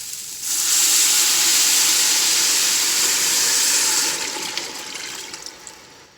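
Broth poured into hot oil in a cooking pot, bursting into a loud, close, rushing hiss of steam and spattering that holds steady, then fades into scattered pops and crackles.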